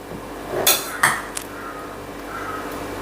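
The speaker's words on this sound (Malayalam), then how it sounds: "അപ്പം നമ്മുടെ റൈസ് ഇളക്കിയെടുക്കണോ." Fish biriyani rice is stirred in a pot, producing two soft scraping knocks close together, then a faint tap over a low steady background hum.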